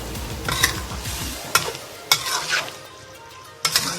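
Vegetables with luffa, long beans and mushrooms stir-fried with oyster sauce and fried egg in a hot pan, sizzling steadily with scraping stirs and several sharp utensil clacks against the pan.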